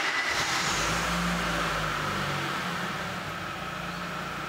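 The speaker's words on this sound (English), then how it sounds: "Start the engine and leave it idling." A car engine idles steadily after starting, a continuous low hum with a faint higher whine, holding a fairly constant level throughout with no voices.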